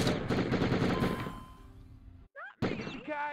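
Pistol shots in the Die Hard Trilogy video game: a rapid burst of sharp, repeated handgun reports, then a brief gap and a few electronic game effects near the end.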